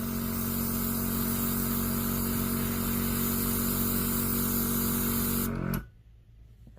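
An IGel Beauty airbrush sprays in a steady, loud hiss with a low motor hum beneath it, running continuously for several seconds before cutting off abruptly, leaving near silence.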